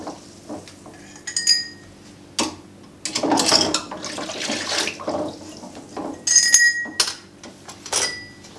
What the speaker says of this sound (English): So let's get a couple of jars here.